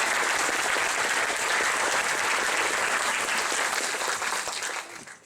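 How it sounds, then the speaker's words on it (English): A political meeting audience claps for a newly introduced speaker, sustained full applause from a large room that holds steady and then dies away quickly in the final second. "So a big round of applause for Joseph."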